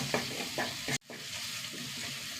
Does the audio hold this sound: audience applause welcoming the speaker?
no